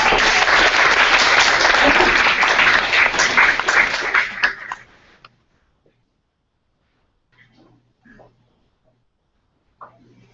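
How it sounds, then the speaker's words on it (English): An audience at a special education symposium applauds loudly and steadily for about four seconds, then the clapping fades out, leaving near silence with a few faint sounds. "if you will join me in applause as he comes on up"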